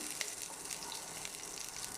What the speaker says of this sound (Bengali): কালো জিরা আর কাঁচা লঙ্কা ফোড়ন দিব। একটু নেড়ে চেড়ে একটু ভাজা হয়ে আসবে,